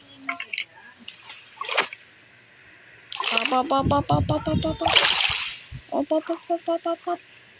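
Minecraft water splashes burst in a couple of loud surges, with a person talking in quick bursts between them.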